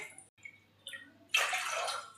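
Water poured from a bowl into a cooking pot for urad dal, a short gushing splash rising suddenly after a few faint drips and clinks, close and fairly quiet.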